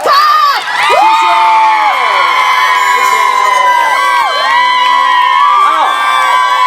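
A loud, close outdoor concert crowd in Linkou, New Taipei, cheers for a Taiwanese singer's entrance with sustained shouting, high whoops and screams that rise and fall in waves throughout.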